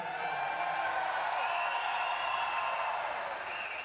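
A crowd at a Commonwealth Games badminton semifinal applauds in a steady, dense wash of clapping that holds without a break for the whole stretch. It sounds moderately distant and fills the arena evenly.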